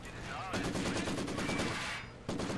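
Maxim machine gun fire in a strategy video game, heard as sustained rattling bursts with a short pause before the firing resumes, mixed into the game's background sound.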